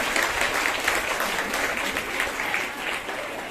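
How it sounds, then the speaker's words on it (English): An audience at an interclass quiz event claps for the quiz master, a brief burst of steady, fairly close applause that eases off slightly toward the end. "Let's give a big round of applause to her."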